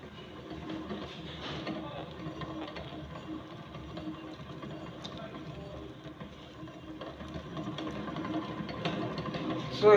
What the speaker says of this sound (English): Then I'll place it on the mixer now. So I fix the bowl on the mixer. I'll start it now.